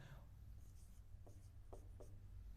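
Chalk or marker scratches a few short strokes onto a board while questions are written for a number system exam lesson, faint against a steady low hum with no talk.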